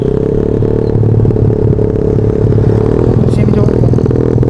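A motorcycle engine with an upgraded ignition revs hard toward 8000 RPM, loud and close, with a steady rising drone and some mechanical clatter throughout.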